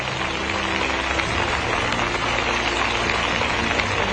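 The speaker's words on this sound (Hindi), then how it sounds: "तालियों के साथ हम अनुपम सौगातों का स्वागत करें" Dense, steady applause from a large audience at an agricultural industry gathering in Mandsaur, a continuous wash of clapping that holds at an even, loud level throughout with no voices.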